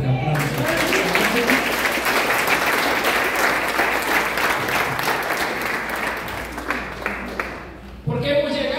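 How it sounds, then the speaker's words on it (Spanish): Church congregation gives a strong round of applause during a sermon, a loud, dense, continuous clapping that swells for several seconds, then tapers off before a voice returns. "Dale un fuerte aplauso."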